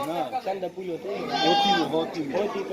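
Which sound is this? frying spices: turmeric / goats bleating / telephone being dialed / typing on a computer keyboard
goats bleating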